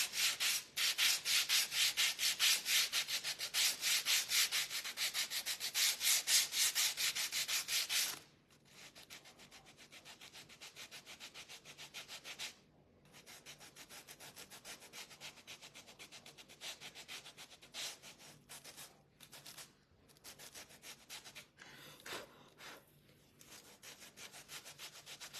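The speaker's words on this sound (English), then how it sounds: "Let's sand his pants." Sandpaper rubbing back and forth on the wooden pants of a small craft-kit doll, a rapid, close scratchy stroking that is loud at first, then lighter and more broken with brief pauses.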